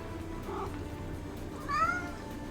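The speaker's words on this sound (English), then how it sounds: "You are the cutest kitty." A pet cat gives a single short meow, faint and close, over a soft steady background hum.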